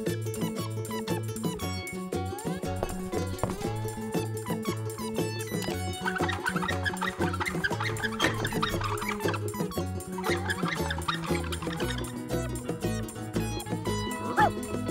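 A cartoon dog in a children's animation barks and yips over a busy musical soundtrack, with short repeated barks scattered through and cartoon voices talking alongside.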